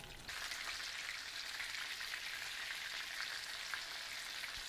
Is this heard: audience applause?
no